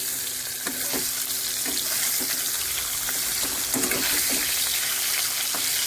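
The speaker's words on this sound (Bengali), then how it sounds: "মাছটা ভালো করে কেটে নুন হলুদ মাখিয়ে মাছটা ভালো করে ভেজে নিচ্ছি" Koi fish, cut and rubbed with salt and turmeric, frying in a pan of oil, with a steady dense sizzle and occasional crackles and stirring clinks throughout, close and fairly loud with no talking.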